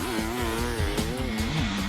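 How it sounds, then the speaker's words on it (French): A motorcycle engine revs hard beside a lake before the bike water-skis across it, its pitch rising and falling in repeated surges, loud and close. "fait vrombir sa moto"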